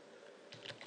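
Quick burst of computer keyboard typing, a few close key clicks over a faint steady background hum, no voices.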